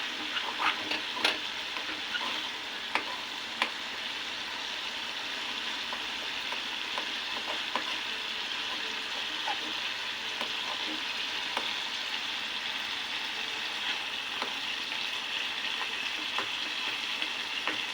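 Brain fry sautéing in a pan, a soft continuous sizzle broken by occasional sharp stirring taps and scrapes, fairly quiet and without talk.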